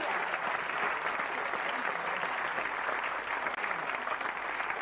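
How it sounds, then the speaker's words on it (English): Studio audience applauding steadily and fairly loud throughout, a dense even wash of clapping with no voices on top, during a food segment about samphire. "Applause, applause, please."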